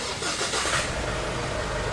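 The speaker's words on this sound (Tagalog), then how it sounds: "Start ko na itong makina." A Ford Everest engine turning over and catching, settling into a steady mid-pitched running rumble, loud and close.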